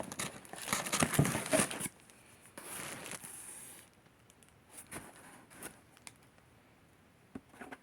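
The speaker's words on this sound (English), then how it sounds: "I'm cutting the box open." Scissors cut open a cardboard box with crinkling, scraping cuts and crunches, a busy burst at first and then sparser snips and rustles nearby, with no talking.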